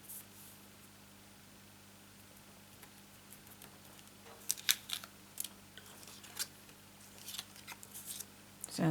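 Paper peels off a sticky, slightly dirty silicone craft mat while a card is being made, producing quiet, brief crackling bursts over a faint background hiss, with no talking.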